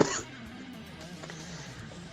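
A single short cough bursts out at the very start, close and loud, followed by quiet room tone.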